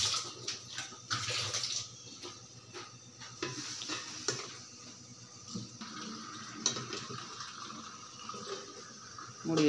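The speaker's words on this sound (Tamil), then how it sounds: "தண்ணி நல்லா கொதிக்குது." Water at a rolling boil in an idli steamer pot on the stove, a steady bubbling and gurgling wash with uneven surges, close and fairly loud, with no talk over it.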